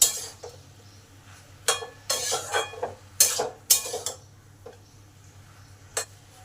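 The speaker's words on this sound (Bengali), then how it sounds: "এইটা মশলার সঙ্গে 5 মিনিট ধরে ভালোভাবে কষবো" Masala and ridge gourd sautéed in a pan, with a spoon scraping and clinking against the metal in irregular bursts over a low steady hum and a faint sizzle.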